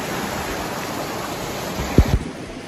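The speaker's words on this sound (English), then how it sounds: "Here's where the river starts to get deep." River water rushes steadily near a small waterfall, a broad continuous hiss close to the microphone, with two brief thumps near the end.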